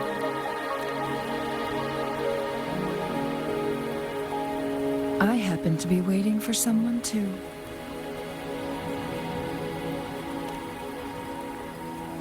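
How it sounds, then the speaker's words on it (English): Steady rain falling as a continuous broadband hiss throughout, with a voice speaking over it midway and game music tones layered underneath. "Are you trapped here by the rain?"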